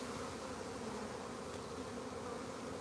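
A live honey bee swarm outdoors on a farm fills the air with a dense, continuous buzzing drone, steady and fairly close, with no voices.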